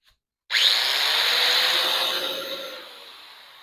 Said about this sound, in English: I guess I just need to switch this to an actual grinder and just get up in there